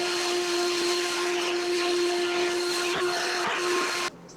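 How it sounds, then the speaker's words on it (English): A Bauer 20-volt cordless leaf blower runs with a steady, loud motor whine and a high whistling tone for about four seconds, then cuts off abruptly. "we're gonna use our handy dandy Bauer 20-volt leaf blower"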